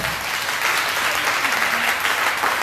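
A church congregation applauds loudly and continuously in dense, even clapping that fills the room, with a faint voice underneath.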